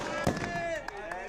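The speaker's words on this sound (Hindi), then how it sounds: "आप देख सकते हैं पटाखे जलाए जा रहे थे" Firecrackers set off in the street during a birthday celebration, heard as one sharp pop followed by a short burst of crackle, with a voice talking over the top.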